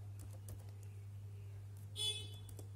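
Faint, scattered keystrokes on a computer keyboard while typing text into LibreOffice Writer, light irregular taps over a low steady hum, with a brief brighter noise near the end.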